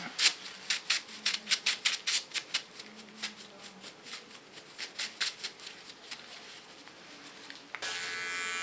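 A small electric hair clipper buzzes in short repeated strokes as it cleans the skin along a short nape line, close and fairly quiet, with a brief louder buzz at the end.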